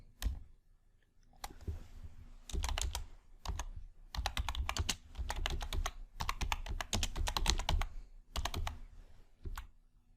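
Fingers type on a computer keyboard in bursts of rapid clicking keystrokes, separated by short pauses, close and clear with no speech.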